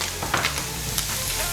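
Mushrooms added to browned Spam in a wok for fried rice give a loud, dense sizzle with a few sharp stirring scrapes, close by.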